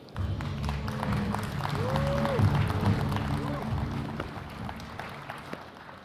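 An audience applauds at the unveiling of the 2019 Mazda CX-5 Signature Skyactiv D, a steady wash of clapping and cheering that swells and then fades, with a brief sustained tone and some murmured talk underneath.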